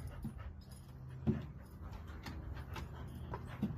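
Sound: dog playing tetherball

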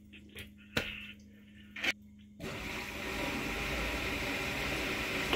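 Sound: RV macerating toilet flushing

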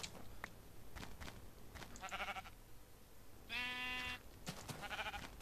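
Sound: sheep bleating in Minecraft video game

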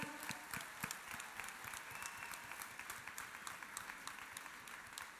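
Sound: audience applause at a book fair

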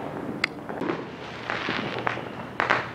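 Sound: Fourth of July fireworks exploding

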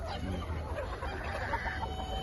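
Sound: chickens clucking

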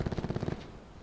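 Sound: sniper rifle shot in a video game

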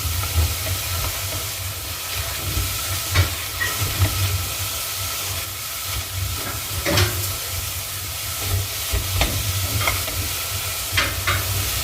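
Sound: mushrooms sautéing in a pan for cream soup

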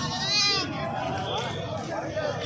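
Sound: goat bleating at a livestock market

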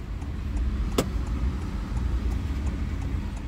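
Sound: car driving on highway toward Nainital

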